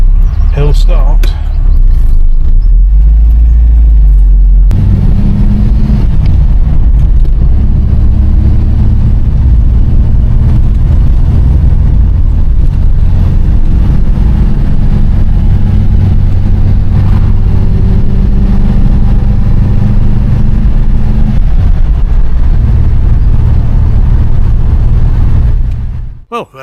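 A classic MGB car's engine makes a steady, close, low rumble during a hill start, with the pitch shifting slightly as it pulls away. The sound continues almost unbroken to the end, with no clear talking.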